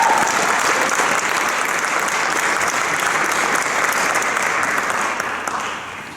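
A concert audience gives a sustained round of applause for a jazz ensemble's guest trumpet player, dense and steady clapping that fades slightly at the end.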